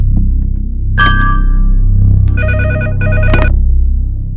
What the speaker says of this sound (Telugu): హలో, పృథ్వీ ఫోన్ ఎవరు?